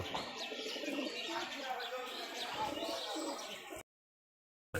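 A rolling pigeon, a strong bird with blood on its wing, coos and chirps close by while someone talks. The sound cuts to silence near the end.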